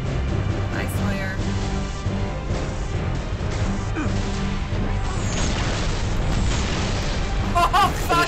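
A ship's mounted gun blown apart in Halo: Reach, heavy booming crash layered over continuous battle noise and game music, loud and sustained with a few sharper bursts toward the end.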